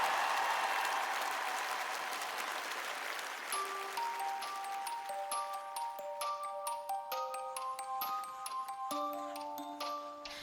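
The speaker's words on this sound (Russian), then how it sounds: "Ваши аплодисменты, Екатерина Мишина!" Audience applauding Ekaterina Mishina at an ice show celebration, a broad wash of clapping that fades as bright, ringing music tones and tinkling notes come in.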